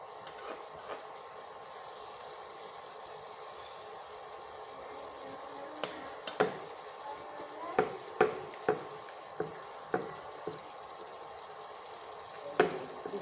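Radish frying in a pan for a vegetarian ghanto, with a soft steady sizzle under a string of sharp scraping and clinking spatula strokes, quiet at first and then more frequent.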